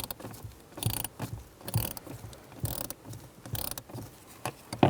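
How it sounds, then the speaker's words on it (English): A ratchet wrench tightening a bolt on the blend door actuator of a 2002-2006 Honda CR-V, with repeated clicking pawl strokes in an uneven rhythm, close and clear with no speech. "Once you're lined up, you're going to start tightening the bolt."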